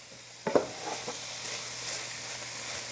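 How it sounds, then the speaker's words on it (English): Cooked brown rice tipped into a pan of frying, partly frozen vegetables: a couple of soft thumps and a scraping stir near the start, then a steady low sizzle. "So now we're going to add the cooked brown rice."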